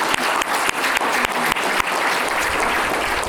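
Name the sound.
audience applause for Barb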